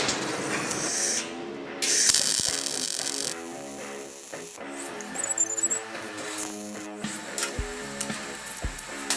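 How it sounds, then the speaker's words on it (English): Welder working on steel door hinges gives off harsh hissing, crackling bursts that start and stop in short runs, loud and close, with a faint tonal background. "Right, set the welder up."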